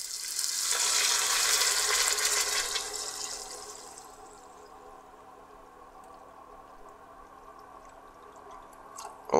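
Water pours into a pot of Finnish-style trout soup with cream, a strong broadband splash filling the first few seconds, then easing to a softer trickle and quiet bubbling before a brief clatter at the end.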